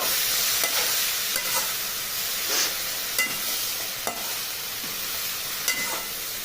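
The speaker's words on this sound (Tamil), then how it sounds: "வேக வச்சதை எடுத்து போட்டு நல்லா நம்ம மிக்ஸ் பண்ணிக்கலாம்." Boiled carrots and beans being stirred in a hot pan, a continuous soft sizzle broken by occasional light spatula scrapes and taps, moderately quiet and close.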